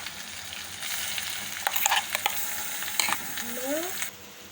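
Onion paste stirred into a hot frying pan, giving a steady close sizzle with intermittent scraping and clinks of a spoon against the pan, then cutting off near the end, no voices.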